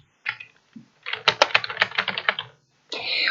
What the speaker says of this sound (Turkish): Burada çok fazla klavye sesi geliyorsa kusura bakmayın arkadaşlar.